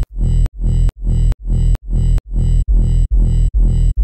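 Steady synth tone pumping in time with a kick drum, ducking sharply on each beat in an even four-to-the-floor rhythm, loud and alone.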